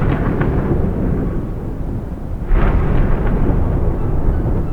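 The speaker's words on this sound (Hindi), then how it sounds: "तभी जोरों से बिजलियां कड़कती हैं, तेज बारिश शुरू हो जाती है।" Loud thunder cracks and rumbles over a dense, steady roar of heavy rain, with a sharp burst partway through, and no voices.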